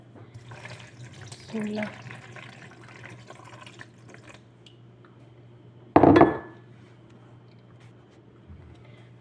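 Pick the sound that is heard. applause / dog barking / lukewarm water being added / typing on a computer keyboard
lukewarm water being added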